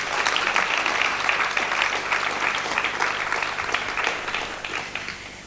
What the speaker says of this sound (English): Could I have a round of applause for them, because they've been just wonderful.